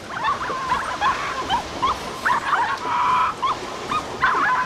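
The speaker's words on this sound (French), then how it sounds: "Voilà, il aboie." Repeated high-pitched yips and short barks from a dog in the point-and-click video game The Cave, fairly close and steady, over a faint background hum.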